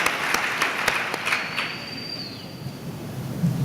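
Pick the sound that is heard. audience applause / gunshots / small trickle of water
audience applause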